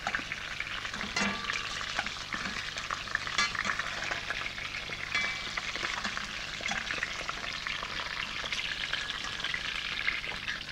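Poussins browning in a hot pan give off a steady, busy sizzle and crackle with scattered louder pops, continuing without a break and with no voices.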